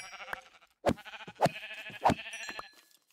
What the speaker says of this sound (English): let me kill myself some more sheep